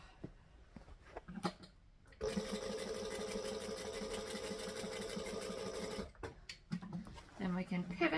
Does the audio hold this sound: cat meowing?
no